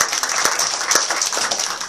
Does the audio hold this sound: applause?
yes